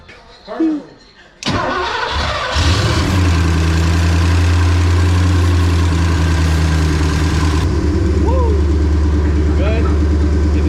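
A Porsche 928 engine cranks and catches after sitting unused for more than ten years, then settles into a loud, steady idle with a deep, even drone, while voices talk over it near the start and end.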